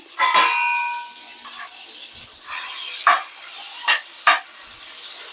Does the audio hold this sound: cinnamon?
yes